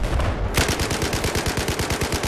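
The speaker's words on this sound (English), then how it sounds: "How do people not get annoyed by the DMR noise?" A DMR rifle fires in Battlefield 4 as a rapid, loud string of semi-automatic shots, nearly twenty evenly spaced cracks in quick succession, close and dominant.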